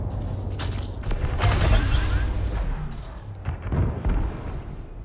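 Turret fire from the video game Elite Dangerous: rumbling, booming bursts of fire and impacts rolling in waves against a ship, loud and heavy, with brief breaks between volleys.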